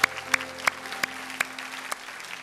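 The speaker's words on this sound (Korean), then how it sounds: "우리 하나님께 감사의 박수 올려드리겠습니다." Congregation clapping during a Sunday church worship service, evenly spaced sharp claps in a steady rhythm over sustained soft instrumental tones.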